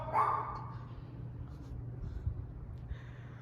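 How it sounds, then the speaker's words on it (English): A dog barks at a house with a reception desk downstairs, one short sharp burst near the start followed by low, steady background rumble. "Damn dog."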